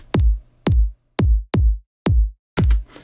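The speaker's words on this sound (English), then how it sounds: "Then I've got a kick pattern that sounds like this." Six punchy electronic kick drums thump in a short, slightly syncopated pattern, each a deep booming hit with a quick downward pitch sweep.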